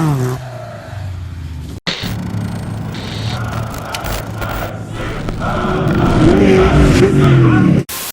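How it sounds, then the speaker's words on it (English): A Toyota Tacoma prerunner truck engine with no rev limiter roars steadily and builds in revving intensity, cutting out abruptly twice with brief gaps. "This motor doesn't even have a rev limiter. It just spins until the valves start to float"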